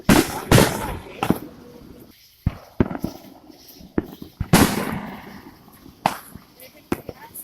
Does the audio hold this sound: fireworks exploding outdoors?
yes